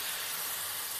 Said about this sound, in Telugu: ఇప్పుడు చింతపులుసు వేసుకుందాం.